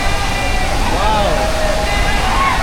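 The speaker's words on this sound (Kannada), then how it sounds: "ಆ ನೀರು 2 ಬಂಡೆಗಳ ಮಧ್ಯೆ ಬೀಳ್ತಾ ಇದೆ." Devkund waterfall in Maharashtra pours between two rocks, a steady, close, dense roar of falling water throughout, with a faint voice-like tone drifting above it.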